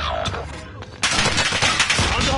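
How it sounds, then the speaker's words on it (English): Hostile gunfire in Call of Duty, a rapid automatic rattle that intensifies midway into loud, close, sustained bursts, with a voice briefly heard beneath it. "hostile fire"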